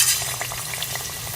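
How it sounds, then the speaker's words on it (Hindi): Chicken frying in hot cooking oil over medium heat, a loud, continuous sizzle and crackle with small popping bursts throughout, no voices. "अब आपने इसको मीडियम आंच पे जो है आपने चिकन को फ्राई करना है"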